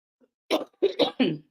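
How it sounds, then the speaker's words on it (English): Several quick, close coughs in a short burst, three or four sharp hacks in a row, then quiet. "Still got my little cough."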